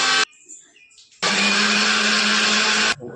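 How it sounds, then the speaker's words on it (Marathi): A kitchen mixer grinder blends chopped coriander, garlic, ginger and onion into a paste for dhaba-style paneer masala, starting with a short blip, then after a pause roaring loud and steady for about two seconds before cutting off. "कोथिंबीर, लसूण व अद्रक व कांदे कट करून त्याची पेस्ट बनवून घेऊया मिक्सरमधून."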